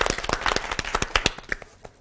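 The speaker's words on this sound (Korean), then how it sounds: "박수 한번 합시다." A church lecture audience gives a short burst of applause, dense overlapping claps that taper off over about two seconds, moderately loud and with no speech over it.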